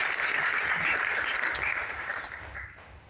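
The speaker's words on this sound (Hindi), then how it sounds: "उनके लिए जोरदार ताली होना" An audience at a business meeting gives loud, sustained applause, a dense wash of clapping that slowly tapers off.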